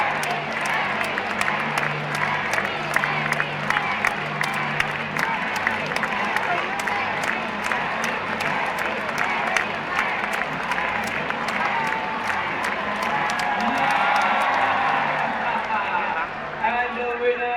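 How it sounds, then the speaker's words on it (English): An audience cheers on parrots during a parrot basketball game, a steady wash of crowd noise with shouts and clapping bursts throughout, voices mixed in, swelling briefly near the end. "The louder you cheer, the faster your bird will play the game."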